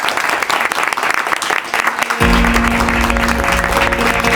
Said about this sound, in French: je vous propose déjà de les applaudir.